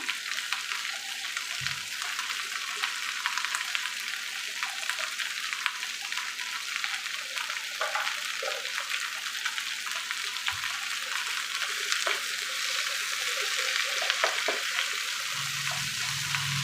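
Moringa leaves sauté in a pan with a steady, dense sizzle, joined by occasional stirring clatters, close and without talk.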